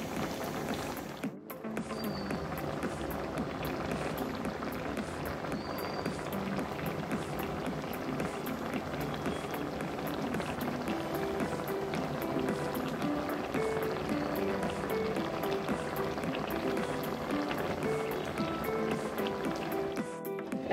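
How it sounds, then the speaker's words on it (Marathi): Karandi (flower shrimp) masala simmering uncovered in a pan to reduce its liquid gives a steady, even bubbling that continues unbroken for about twenty seconds, close by and with no voices. "झाकण न ठेवता मी हे असं हे पाणी आटू देणार आहे"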